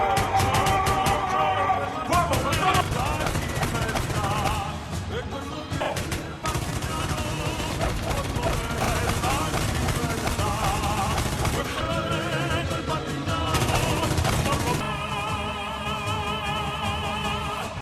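Sustained bursts of rapid police gunfire in a Money Heist scene, dense and loud, rattling on with brief gaps, mixed with crashes and shouting.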